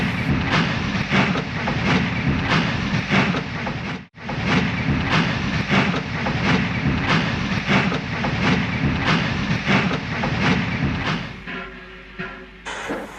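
A steam train rumbles steadily with dense rattling and rhythmic clicking of wheels, loud and close, easing off near the end.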